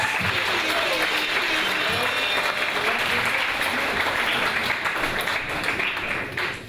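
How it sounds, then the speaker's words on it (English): An audience applauds the MCs at a live festival show, dense sustained clapping from a sizable crowd that fills the whole stretch, with voices mixed into the noise. "Let's give them a round of applause."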